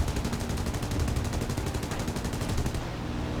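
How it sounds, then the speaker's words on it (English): A machine gun fires at an artillery target in a Short Sunderland flight video game, a steady rapid stream of loud, evenly spaced shots that runs for about three seconds before stopping abruptly over engine drone. "So we're going to machine gun this artillery thing"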